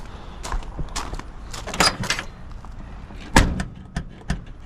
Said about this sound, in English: See how that one rattles a little bit?